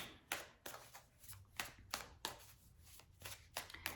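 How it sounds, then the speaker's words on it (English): Tarot cards handled and drawn from a deck, giving a series of soft, quick papery slaps and riffles that come in irregular bursts, close and fairly quiet, with no voices. "I'm gonna draw one more card here"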